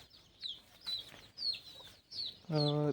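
Free-range chickens on a poultry farm cluck in short bursts, fairly close, ending in a loud sustained squawk, with faint voices in the background.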